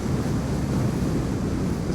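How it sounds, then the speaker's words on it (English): Strong, gusty wind buffets a microphone on the Iceland coast in stormy conditions, a dense low roaring rush that stays loud and unbroken throughout, no voices. "Today it is extremely windy."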